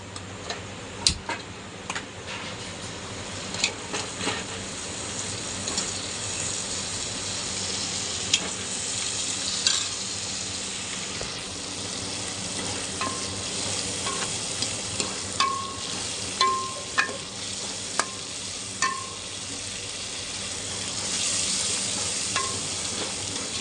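Large paneer chunks cooking in a pan of kaju paneer curry gravy, giving a soft continuous sizzle with scattered light ticks and spoon taps.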